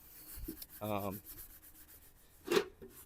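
An SOS pad scrubs surface rust off old pitted chrome in a few short, quiet rubbing strokes, with a brief murmur of voice between them.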